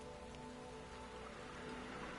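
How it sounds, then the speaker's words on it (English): Steady rain falls in the game Hundred Days, a continuous soft hiss of droplets on surfaces with a faint tonal hum underneath, even and unbroken throughout. "It is still raining."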